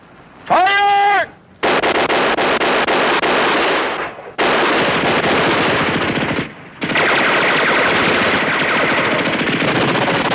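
Sustained bursts of machine-gun and rifle fire from a World War II battle scene in the TV series Combat, loud and close, broken by two brief pauses, after a short shouted command at the start.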